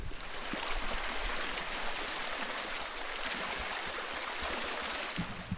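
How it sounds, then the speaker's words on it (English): A small creek flows through trees nearby, giving a steady broadband rush and trickle of moving water with no voices over it. "I'm gonna fish a different creek in a minute. In fact, you can probably just hear it. It's just over there through those trees."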